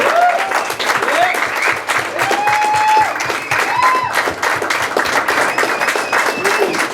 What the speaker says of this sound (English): So if we could all just please give a round of applause for him.